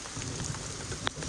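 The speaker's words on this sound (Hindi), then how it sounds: "और बारिश देखो" Rain falls steadily outdoors in the Dediapada area, a soft continuous hiss with a brief sharper patter near the end.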